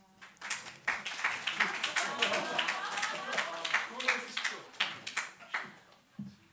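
Church congregation clapping during a Korean Sunday sermon, a burst of hand claps over a murmur of voices, fairly steady then thinning toward the end.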